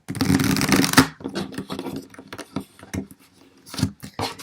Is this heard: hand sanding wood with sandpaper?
no